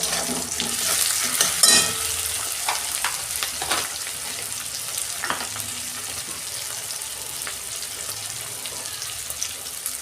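Tomato and green chillies frying in a pan with already-fried onions, a steady close sizzle with stirring scrapes running throughout and no voices.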